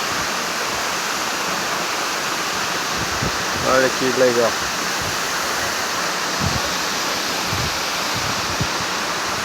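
A waterfall at a campsite roars as a steady broadband rush throughout, with a person speaking briefly over it near the middle.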